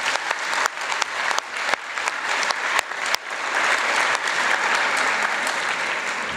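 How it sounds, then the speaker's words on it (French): Sustained applause from an audience at a student session of an economics conference in Aix-en-Provence, dense clapping building and holding steady, fairly loud and close, with no talking over it. "J'aimerais que vous les applaudissiez bien fort."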